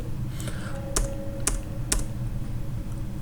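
Computer keyboard typing during accounting data entry: a few sharp, separate key presses spaced about half a second apart, close and clear over a steady low room hum, with no talking.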